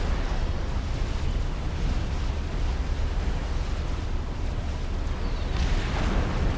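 Salvation artillery shells keep landing in Supreme Commander: Forged Alliance, a continuous dense roar of overlapping blasts and rumble with no gaps, loud and unbroken throughout.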